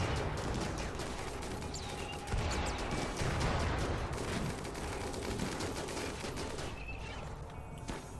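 Dense, continuous combat gunfire from RimWorld crackles without pause, many overlapping shots forming a steady rattling wash, moderately loud, with no speech.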